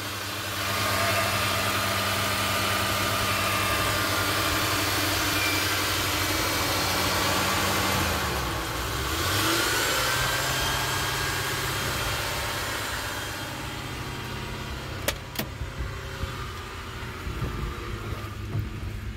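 A 1993 Mercury Cougar engine, left sitting a year with old gas, idles unevenly and close by, its revs rising and sagging in repeated surges and bog-downs as a steady mechanical drone with no talk.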